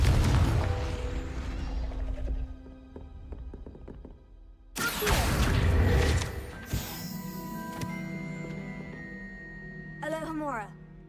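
A Confringo blasting spell from Hogwarts Legacy bursts with a loud, booming blast, followed by a trailing rumble and scattered game effects.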